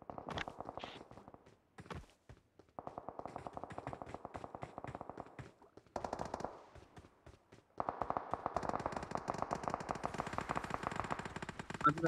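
Rapid bursts of automatic gunfire in the PUBG Mobile video game crackle in several long, sustained volleys separated by short pauses, fairly quiet overall with scattered single shots between them.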